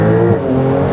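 A 1,000 HP Porsche Turbo S launching under launch control, its engine roaring loud and steady throughout the short, close burst with strong low tonal harmonics and no speech.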